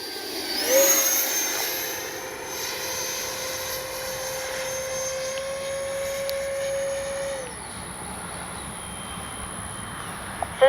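An FMS Rafale 80mm electric ducted-fan RC jet makes a gear-down low pass, a loud, steady whining roar that sweeps up as it approaches, holds a high tone, then drops away as it recedes.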